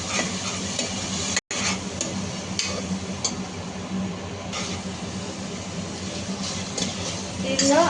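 Tomato puree fries in hot oil in a pan for chicken curry, a steady close sizzle broken by scattered clicks and scrapes of stirring, with one brief dropout partway through.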